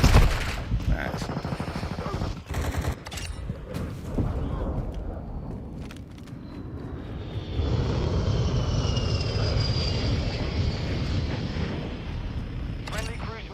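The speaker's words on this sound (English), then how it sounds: "Friendly cruise missile approaching target." A friendly cruise missile approaches its target in Call of Duty Modern Warfare II, a loud rising roar and whoosh that swells from the middle of the clip and holds steady, following scattered gunfire and voices.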